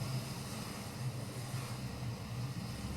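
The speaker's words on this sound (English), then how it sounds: "you're only going to hear the waves." Ocean waves playing as a soloed track in a video editor, a steady broadband wash of surf with low rumble and no music, continuous and even throughout.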